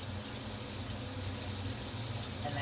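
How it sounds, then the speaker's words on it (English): Cold tap water runs steadily over a vintage doll's clothes as they are rinsed in a sink, a close, even broadband gush with no talk. "I try to give it a rinse with some cold water"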